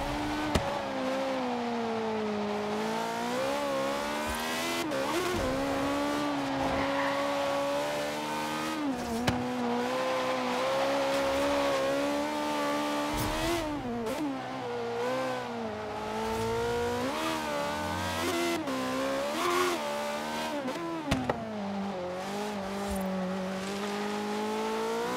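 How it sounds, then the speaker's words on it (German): A BMW i8 fitted with a high-revving V8 in the Forza Horizon 3 video game screams continuously through repeated rises and falls in revs across gear changes, loud and sustained. "Das ist ein Hochdrehzahl V8-Motor."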